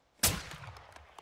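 A single sniper rifle shot in the Call of Duty MWII campaign, one sharp loud crack with a fading echoing tail, heard alone.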